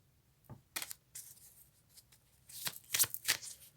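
Tarot cards being drawn and handled, with several quick riffling, flicking shuffles scattered across a quiet background and a denser burst of card snaps near the end, close and crisp, with no talk.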